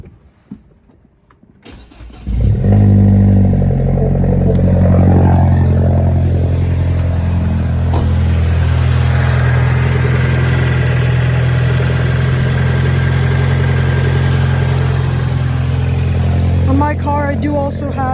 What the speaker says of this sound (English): I'm gonna start it up, and then I'm going to drive it, and so you can hear the turbo sounds.